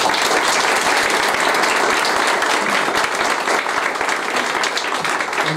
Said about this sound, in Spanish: pedirle un fuerte aplauso para todos ellos